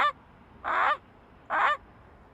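A man mimics a Canada goose with three nasal honks spaced evenly apart, close and fairly loud over a faint background hiss.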